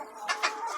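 Chickens and roosters cluck in short bursts at a poultry sale of Andijan black hens, a few quick calls close by with no voices over them.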